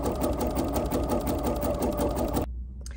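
An embroidery sewing machine stitches at a fast, steady, rattling rhythm for a couple of seconds, then stops abruptly; loud, close and with no talking.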